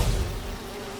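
Holographic bee wolves buzz in the Marvel's Spider-Man 2 video game with a steady, dense insect-like drone that swells briefly at the start and then holds, loud and close.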